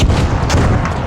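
Gunfire in a video game, a short, loud burst of booming shots.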